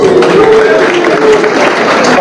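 Audience applause at a political gathering in the Democratic Republic of Congo, a dense, steady wash of clapping and crowd noise for about two seconds, with a voice faintly audible through it.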